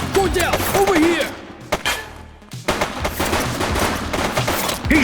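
Rapid gunfire bursts from a shooter in the video game The Precinct, sharp cracks firing in quick succession with a short lull in the middle, while voices talk over the shots.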